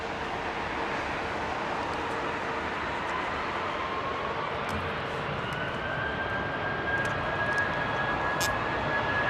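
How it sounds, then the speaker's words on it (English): Airbus Neo jet departing at London Heathrow, a steady broad roar with a thin rising whine, fairly distant and even throughout with no voices. "That Neo shot off."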